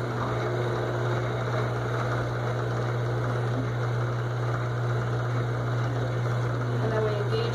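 An ILCO Duplimatic 2A key cutting machine runs with a steady, low motor hum and faint mechanical whir, constant and even throughout at close range.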